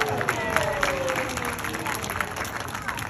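An audience at a sea lion show in Bewdley, England claps and cheers, a steady patter of many hands with a voice faintly carrying over the crowd.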